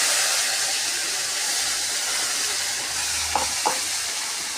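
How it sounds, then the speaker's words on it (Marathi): Coriander, chilli and turmeric powders fry in a pan for a mixed dal, giving a steady broadband hiss that stays constant throughout, with a couple of faint clicks near the end and no voices. "असा मसाला आता परतून घेते बघा"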